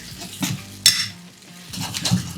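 Wild turkey stir fry is stirred and tossed in a pan with sauce, utensils scraping and clinking against the metal amid a soft sizzle, close by with no talking.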